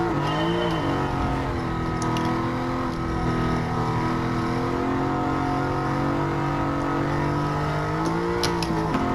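Fully modified Aston Martin V8 Vantage S in Gran Turismo, its V8 engine droning loud and steady with aftermarket exhaust, holding a sustained high-rpm tone with brief revs and shifts at the start and end.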